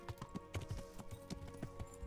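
Steady clip-clop of horse hooves in Kingdom Come: Deliverance trots along at a brisk, even rhythm, faint beneath a droning musical background.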